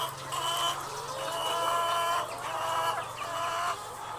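Laying hens in a commercial egg farm coop, with a rooster kept above their cages, cluck and cackle steadily in a dense overlapping chorus, with a faint mechanical hum underneath.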